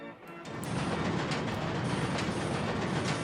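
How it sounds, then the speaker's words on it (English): A roller coaster train in RollerCoaster Tycoon rumbles along its track with a continuous rattling clatter that swells in after a brief quiet start and stays steady and fairly close. "Ooh, and there's more than one train."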